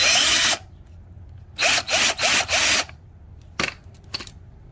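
A power drill whirs to back out a T25 screw from the wiper motor of a Chevy HHR, one long loud burst, then four quick pulsed bursts, followed by two short faint clicks.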